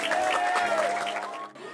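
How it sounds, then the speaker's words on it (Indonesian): Steady clapping from a group keeps a busy, even patter. A few voices murmur under it, and it briefly thins near the end. "Boleh tepuk tangannya dulu."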